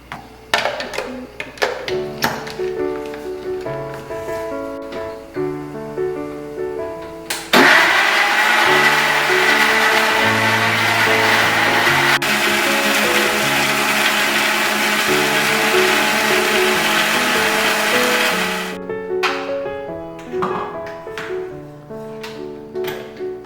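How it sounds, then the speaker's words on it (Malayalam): A kitchen mixer grinder blends carrot, ginger and milk, running as a loud continuous whir for about eleven seconds, with clatter and handling of the jar before and after. "നമുക്കിത് മിക്സിയിൽ അടിച്ചിട്ട് വരാം"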